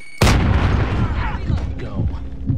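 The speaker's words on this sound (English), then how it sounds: "Grenade out!" A grenade goes off in the Call of Duty Modern Warfare video game, a sudden loud close blast followed by a rumbling, decaying roar with battle noise and voices underneath.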